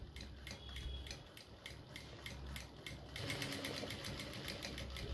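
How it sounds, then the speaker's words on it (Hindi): A sewing machine stitches lace onto latkan fabric in a fast, steady mechanical rattle, close but fairly quiet, speeding up slightly in the second half. "बिल्कुल आराम से सिलाई इस तरीके से लगाएंगे गुलाई से।"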